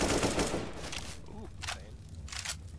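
Video game AK rifle fire, a rapid burst of automatic shots up front followed by a few short separate bursts, heard faintly under players' voices.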